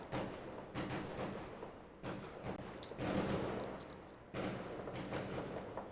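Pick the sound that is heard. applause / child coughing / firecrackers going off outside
firecrackers going off outside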